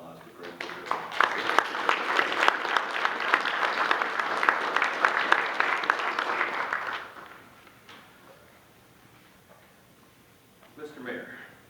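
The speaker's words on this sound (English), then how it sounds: "let's could give another round of applause to Greg Lazura." Audience applause at a Taylor city council meeting, several seconds of dense clapping from a room of people that stops abruptly, followed by quiet room tone and a brief voice.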